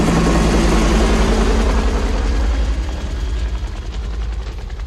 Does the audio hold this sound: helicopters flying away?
yes